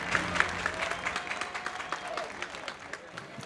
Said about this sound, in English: ladies and gentlemen, a massive round of applause for your two-wheeled heroes